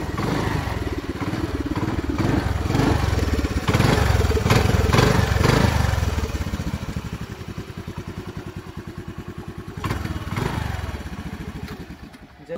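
A Honda Activa scooter engine running close by, a steady loud putter that shifts in rhythm partway through and settles into a rougher idle, with no talk over it.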